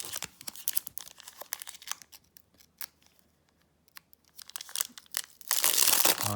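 A Pokémon booster pack wrapper is torn open by hand with no scissors, giving faint intermittent crinkles and scratchy rips with quiet gaps, then a louder burst of tearing and crumpling at the end.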